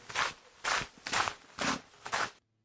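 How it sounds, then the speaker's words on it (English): Five crunchy footsteps fall in a steady walking rhythm, each a gritty scuff of similar loudness, close up with nothing else heard, then an abrupt stop. "Footsteps."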